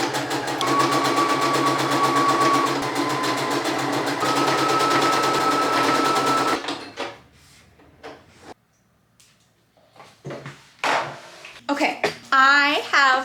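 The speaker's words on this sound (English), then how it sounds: "And now when I sew along the seam here, it will lock in my gathers." A sewing machine runs steadily for about six seconds, stitching a French seam along a dress seam with gathers, then stops; quieter handling noises and brief speech follow.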